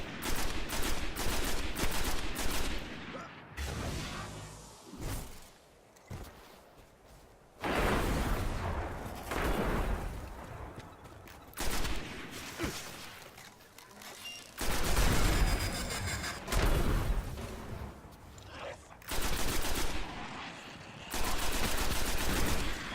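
Rapid bursts of gunfire from the Destiny video game, loud and dense, with volleys of shots and blasts separated by brief lulls throughout.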